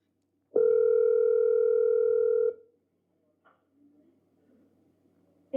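A single steady ringback tone of about two seconds on an outgoing telephone call, loud and clear, followed by near silence and faint line noise.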